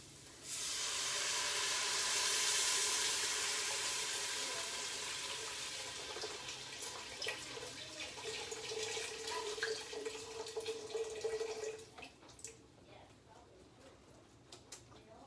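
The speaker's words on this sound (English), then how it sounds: "To this we will be adding 3 cups of chicken stock." Chicken stock poured into a soup pot for mulligatawny soup, a loud continuous liquid rush that slowly thins to a trickle, followed by a few clinks and faint kitchen sounds.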